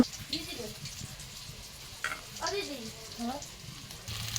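Potato rolls frying in hot oil give a soft, close sizzle with occasional stirring scrapes, while a voice talks intermittently over the cooking.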